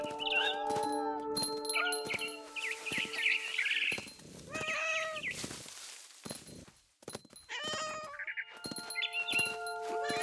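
A cat meows repeatedly among chirpy, synthetic game sounds and bright electronic tones in the game What Remains of Edith Finch, the meows fairly close and prominent.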